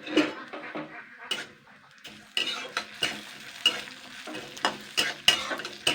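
Mung dal lightly frying in a hot wok over medium heat, with repeated scraping and clinking of a spatula against the metal in irregular strokes over a soft sizzle, close by.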